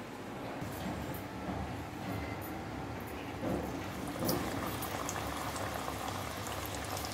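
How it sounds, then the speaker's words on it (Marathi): Chicken keema samosas deep-fry in a pan of oil over medium heat, with a dense, continuous bubbling sizzle and scattered crackles that hold steady throughout. "आता आपण हे फ्राय करूया"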